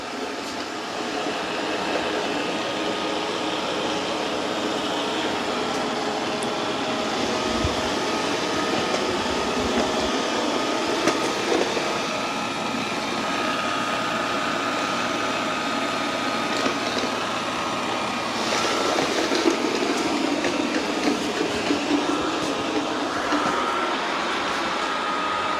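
A Eufy C10 robot vacuum cleaning the floor, giving a steady, continuous whirring hum with a broad airy roar that holds even and close throughout.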